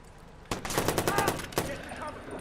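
Rapid bursts of gunfire in the video game Watch Dogs on PS4 crack out in a dense volley, then a final sharp shot, with faint background noise trailing after.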